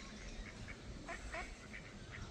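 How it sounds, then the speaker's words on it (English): Small ducks quack at a pond in a nature reserve near Formby beach, a series of faint, scattered calls over a steady background hum. "you see little ducks"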